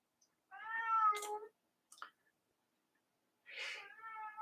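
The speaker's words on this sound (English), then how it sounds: "Yes, that's my cat." A house cat meows indoors, two drawn-out close cries with a short faint sound between them, otherwise quiet.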